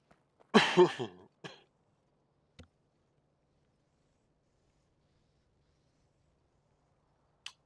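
A man coughs once, close and fairly loud, during a stream while playing Factorio. A few faint clicks follow in near silence.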